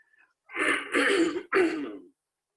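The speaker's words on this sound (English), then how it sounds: "I hate clearing my throat over the microphone" One person clears their throat close to the microphone during a Wednesday night church talk service, in two rough, rasping bursts.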